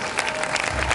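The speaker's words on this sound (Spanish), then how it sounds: "Qué bonito, se escuchó el aplauso" Audience applause at a salsa dance academy performance during a concert, a steady, dense wash of clapping from a crowd that carries on through the whole moment.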